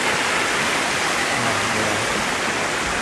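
Water from a spring at Lake Arnica rushes and splashes in a continuous, loud, close flow with no voices over it.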